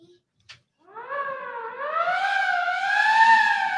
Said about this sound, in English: will you do that and turn the sirens wide open?